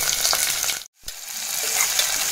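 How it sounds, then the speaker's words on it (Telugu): Chopped onions fry in a pan for baby potato curry, a loud continuous sizzle broken by one brief near-silent gap as they are stirred, then the frying hiss resumes. "ఆనియన్స్ వేసేసుకొని ఒకసారి కలుపుకోవాలి."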